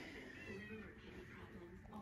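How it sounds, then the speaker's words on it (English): A house cat's drawn-out meows indoors, wavering vocal tones blended with a person talking over them. "This is Kevin's mother's cat"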